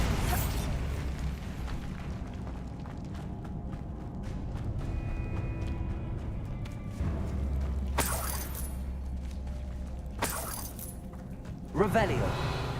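Bombarda blasting spell from a video game: a loud burst at around eight seconds, another near ten seconds and a sharp pop near twelve seconds, over a low rumbling backdrop with game voices talking.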